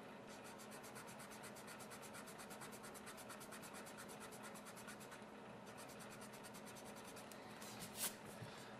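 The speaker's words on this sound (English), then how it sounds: "I'm just going to go ahead and I'm going to erase across these two lines here." Black eraser rubbing back and forth across graphite pencil lines on paper, a quiet, fast rhythmic scratching that continues steadily for several seconds with a small bump near the end.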